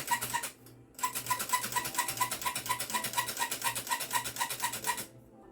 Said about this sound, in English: this is that old-fashioned handheld. So we're going to go ahead and sift that right into there